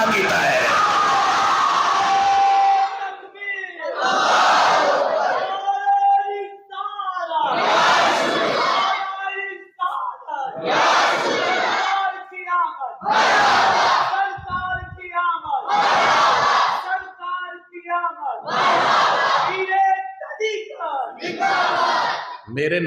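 A large crowd at a Milad-e-Mustafa religious gathering shouts slogans in loud, repeated call-and-response bursts, about eight surges separated by short pauses, with voices roaring together close and full.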